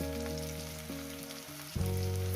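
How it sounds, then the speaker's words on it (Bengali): Greens fry in a hot pan for a Bengali chorchori, a steady close sizzle that flares a little louder near the end, with no one talking. "মোটামুটি 4-5 মিনিট ধরে এটাকে আমি 5 মিনিট করে ভেজে নেব।"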